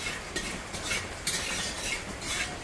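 Mung dal frying in a pan while being stirred, a soft continuous sizzle broken by repeated scraping strokes of a spoon against the metal, fairly quiet and close.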